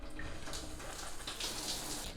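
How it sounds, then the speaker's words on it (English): A shower runs in a home bathroom, a steady hiss of falling water that stays even and close for its whole short span. "So first I'm gonna go ahead and go take a shower first."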